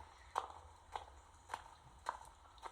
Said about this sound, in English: the echoey footsteps